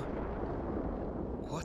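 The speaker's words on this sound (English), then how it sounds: "It seems the wharf has collapsed." A wharf collapses in the Suikoden IV video game as a loud, dense, sustained rumbling crash that fills the short clip, with a brief voice sound at the very end.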